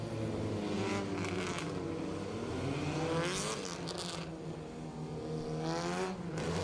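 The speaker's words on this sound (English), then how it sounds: "Here they are coming up onto the track right now, the second of 2 mini stock heat races." Mini stock race cars roll onto the racetrack at Riverhead Raceway, a continuous loud drone of several engines with rising and falling revs and no one talking.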